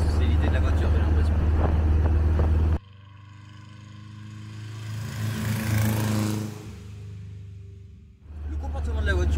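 A Porsche 356 Speedster's engine drones steadily while driving, loud and close at first, then a sudden drop to a softer, fluctuating hum with some rising revs before the heavy drone returns near the end.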